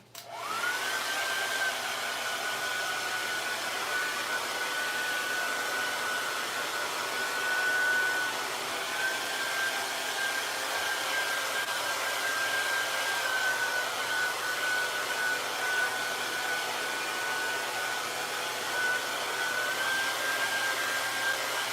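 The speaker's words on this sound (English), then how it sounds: "So what I'm doing now is just blow drying my background" A hair dryer blows steadily on a painted canvas background, a loud constant whirring rush with a faint high whine, running unbroken for the whole stretch with no talking over it.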